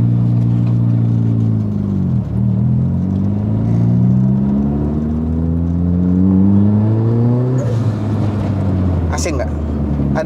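A tuned Mitsubishi Evo 4 RS making 330 whp, heard from inside while driving: the engine drones and rises through the revs, drops at a gear change, then climbs again, with people talking over it.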